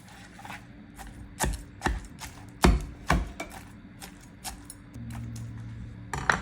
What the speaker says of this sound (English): Stab the meat on both sides.